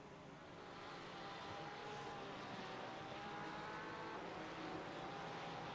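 Race cars roaring down the straight at Paul Ricard in a racing video game, a steady loud engine drone with a high whine holding throughout, dense and continuous with no pauses.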